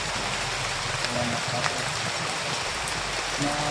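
Steady hiss of falling rain, broadband and constant, with faint patter and no voices.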